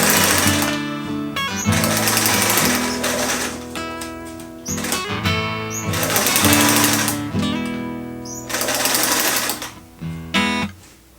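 A sewing machine stitches a Tyvek stuff sack in loud, close bursts of rapid mechanical chattering, stopping and restarting several times, with short pauses between runs.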